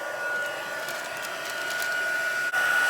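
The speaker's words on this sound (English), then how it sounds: "Then I'm going to take my heat gun, and I'm going to start shrinking it up." A heat gun blows a steady, close whooshing roar with a faint high whine as it shrinks plastic shrink wrap around Christmas candy packaging, continuous with one brief dip near the end.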